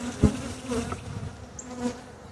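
Honey bees buzz steadily around an opened hive being split, a close, continuous drone with individual bees passing near.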